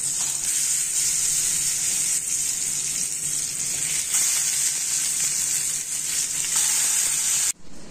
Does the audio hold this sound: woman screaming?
no